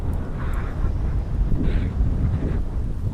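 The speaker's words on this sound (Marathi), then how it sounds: "ट्रायपॉड पण राहत नाही, एवढा वारा आहे." Strong wind gusts buffet the microphone on a beach, a heavy low rumble that surges and eases continuously without any talking.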